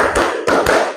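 Three crisp hand claps from a class of students, close and fairly loud. The last two come in quick succession and no one speaks.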